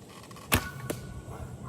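An arrow loosed from a traditional bow strikes a stick set in a dirt target, giving one sharp, close impact, then a fainter second knock a moment later against a quiet outdoor background.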